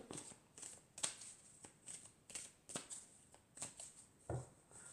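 Tarot cards are shuffled by hand in a soft, quiet, rhythmic run of riffling and slapping, close up with nothing else heard.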